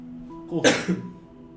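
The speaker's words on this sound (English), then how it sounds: "You coughed just as I said the name." A single sharp cough bursts out close by, with a quick second catch right after, over a low steady hum.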